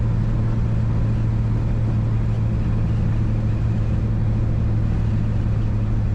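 A 1934 Chevrolet Master 5-window coupe cruising at 45 mph, its engine and road noise forming a steady, loud low drone with a constant hum throughout and no voices.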